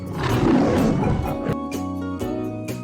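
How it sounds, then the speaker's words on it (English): A lion's roar, loud and close: one broad, rumbling bellow that trails into sustained tonal layers, heard without talk. "This huge toothsome creature made sure everyone saw how important he was by how loud he could"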